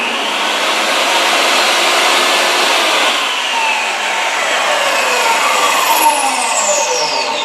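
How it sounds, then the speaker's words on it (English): A DeWalt compact 15 amp table saw runs at full speed, giving a loud, steady motor whine with a broad roar that holds throughout, close and alone with no talking. "So this saw is pretty loud if I kick it on."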